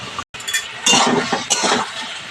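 Mutton and ginger-garlic paste being stirred in a pan, with a quick run of close scraping and clinking utensil sounds in bursts, a brief pause, and no talk.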